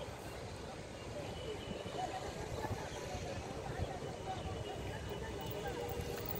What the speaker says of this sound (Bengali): নৌকা যাচ্ছে আর যাচ্ছে।